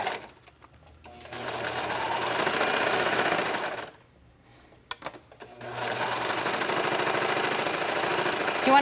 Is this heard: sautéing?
no